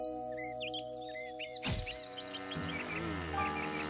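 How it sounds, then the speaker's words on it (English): A mockingbird sings a string of varied chirps and whistles in a cartoon camping scene, first alone and then under a sudden swell of music and other sounds. "I can hear a mockingbird."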